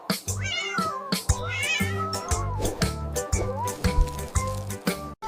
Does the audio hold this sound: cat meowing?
yes